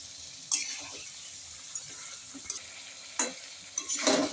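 Potato curry being stirred in a pan: a few scattered scraping strokes over a low, steady background sizzle, with a louder stir near the end.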